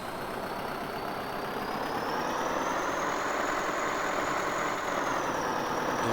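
A Zetor tractor engine runs steadily at close range, a continuous loud drone with a faint rising whine as it accelerates, no voices.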